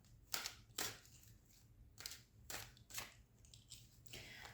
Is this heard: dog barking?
no